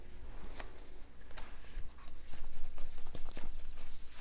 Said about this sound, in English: I'm just going to pull a couple cards from another deck.